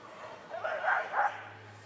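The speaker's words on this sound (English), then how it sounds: "Staffordshire Bull Terriers do like to be quite noisy" A Staffordshire Bull Terrier at Crufts gives a couple of short, soft yipping barks, fairly quiet and close, over a low background hum.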